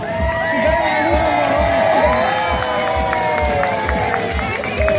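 An audience claps and cheers to welcome a trainer and her animal at a marine animal show, with whoops and children's shouts over the crowd noise, while tonal calls and a voice carry through.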